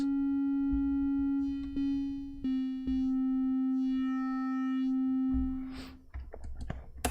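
A Korg Monologue synthesizer plays a sustained square-wave note with its pulse width being altered, a steady harmonic-rich tone broken by a few brief clicks, then fading into short plucked notes near the end.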